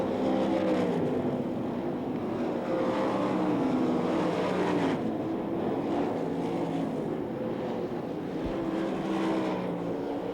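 Sprint cars race in a qualifying heat at the 1997 Knoxville Nationals dirt track, their engines roaring loudly and continuously, the pitch rising and falling as the cars pass and power through the turns.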